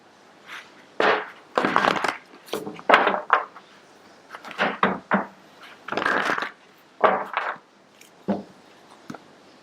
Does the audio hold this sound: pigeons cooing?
no